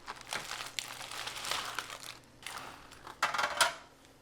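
Aluminium foil crinkles and crackles in bursts as it is peeled away from a baked ham, close and fairly loud, with brief pauses between handling sounds and no talking.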